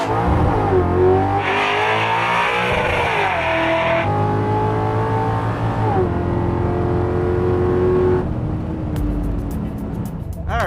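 A 700-horsepower Crusher Camaro with an engine swap accelerates hard through its gears, with a loud close engine roar whose pitch rises and then drops at each shift.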